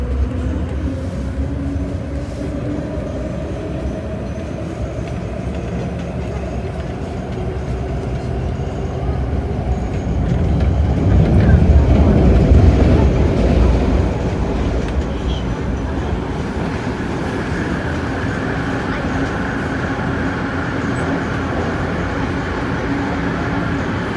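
A Hong Kong MTR train rumbles steadily along the track, its low drone swelling louder midway and then settling back, heard from inside the carriage.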